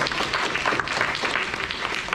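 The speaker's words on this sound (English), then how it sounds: "Can we give a round of applause for that?" Guests at a wedding reception break into a short round of applause, a dense, fairly loud patter of many hands with a few sharper claps standing out.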